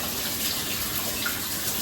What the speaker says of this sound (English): we rinsed our onion and we just rinsed our knife as well